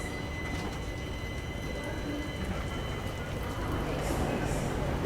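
Aboard an Intercity Express pulling out of Rajkot Junction on the Somnath–Ahmedabad route, a steady, broad rail rumble and rolling noise fills the carriage and grows slightly louder near the end.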